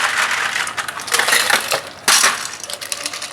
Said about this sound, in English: we're gonna grab our mixing tin, put a little bit of ice in here